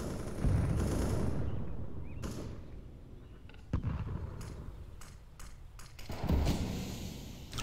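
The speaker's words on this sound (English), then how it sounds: "Throwing a grenade." Sharp bursts and blasts from a CS:GO match on the Inferno map, including a grenade explosion, several distinct loud cracks spaced apart with a heavier boom late on, over quiet background and no talk.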